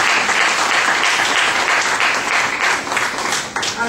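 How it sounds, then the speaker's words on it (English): Sustained audience applause with dense, steady clapping from a crowd, loud and continuous throughout with slight swells, no one speaking over it. "Could we please give him a round of applause?"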